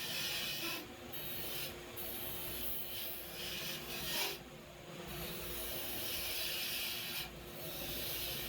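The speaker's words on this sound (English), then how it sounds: "I'll sand the inside of the rim here real quick before I part it off." Sandpaper rubbing against the inside of a spinning wooden rim on a woodturning lathe, a continuous hissing rasp with brief louder bursts of contact, close and steady, with no talk.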